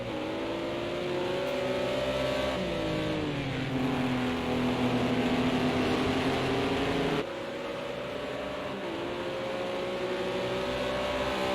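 Racing car engines roar in a sim racing eSports championship final, a continuous loud drone rising and falling with shifts and revs, one car cut sharply to another partway through, no speech.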